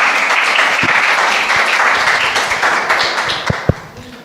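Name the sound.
audience applause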